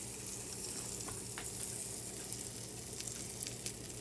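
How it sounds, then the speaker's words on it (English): Pancake batter hitting browned butter in a hot pan, a steady close sizzle and crackle holding throughout, with a few light scrapes and taps. "And then we're gonna drop our pancakes."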